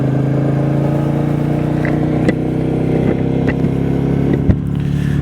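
Royal Enfield Meteor 350 motorcycle pulling away, a steady low engine drone with a few light clicks and clunks, heard close from a helmet-mounted position and loud throughout, no talking.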